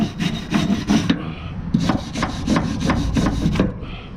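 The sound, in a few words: scrubbing surface rust off old horse box metal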